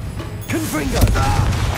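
A Confringo blasting spell cast in the Hogwarts Legacy video game, a short booming burst with a fiery crackle, heard loud and close amid game effects and a brief voice.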